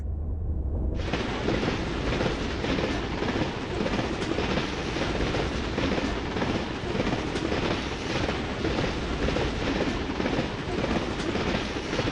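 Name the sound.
train moving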